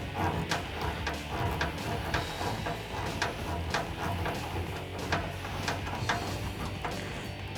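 Repeated ratcheting clicks and grinding whirs from a Phillips self-tapping screw being driven through a pilot hole into a RedRock OEM-style fender flare on a 2014-2018 Silverado 1500, close and steady.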